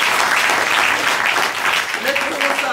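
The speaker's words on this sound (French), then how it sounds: "On peut applaudir la plaidoirie de Maître de Broise." An audience bursts into sustained, dense applause for a lawyer's closing argument at a trial. The clapping stays steady and close throughout, and a voice rises briefly near the end.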